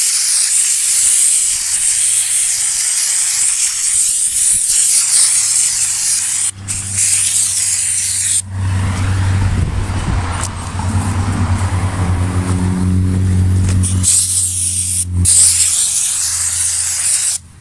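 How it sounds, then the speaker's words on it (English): A pressure sprayer spraying insecticide around tree bases at lowered pressure hisses loudly and continuously at close range, with a few brief pauses and a low motor-like hum joining partway through. "So I'm going to spray all my trees around the base."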